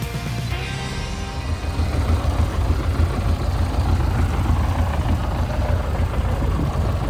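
MTZ-80 tractor engine with a plough out in the field, a steady low diesel rumble that rises slightly after the first second and then holds constant and close, no talk.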